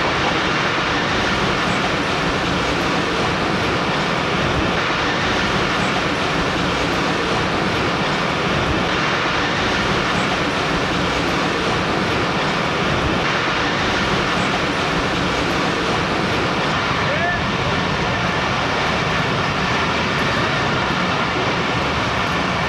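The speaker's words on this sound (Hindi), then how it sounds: "ओकाड़ा रेलवे स्टेशन पहुंच रही है ट्रेन" The Karakoram Express rolls into Okara railway station on the main line, a loud, sustained rumble of wheels and carriages with faint clickety-clack running unbroken throughout.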